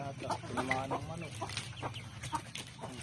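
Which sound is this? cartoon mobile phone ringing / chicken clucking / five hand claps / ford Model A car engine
chicken clucking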